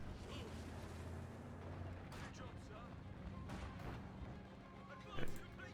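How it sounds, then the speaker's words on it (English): Artillery barrage in the real-time strategy game Company of Heroes 2, heard as distant booms and rumbling impacts over a steady battlefield din, with one sharper blast near the end; someone talks over it. "Barrage here."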